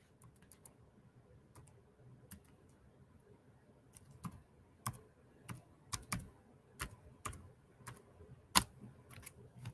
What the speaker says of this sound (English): I'm finna type this in real quick.